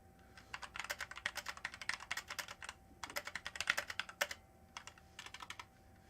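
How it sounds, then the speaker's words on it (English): A computer keyboard clatters with fast, irregular keystrokes during a typing test, bursts of clicks with short pauses, close and fairly quiet with no talking. "Complete a typing test."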